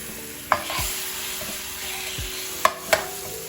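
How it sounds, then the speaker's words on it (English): Fresh kimchi pan-fries with onions and garlic, a soft continuous sizzle close up, punctuated by a few sharp clicks and scrapes of stirring against the pan. "I'm now gonna add the fresh kimchi. I'm just adding this much and we're just gonna pan fry it."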